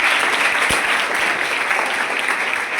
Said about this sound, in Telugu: చప్పట్లు కొట్టాలి బోర్డు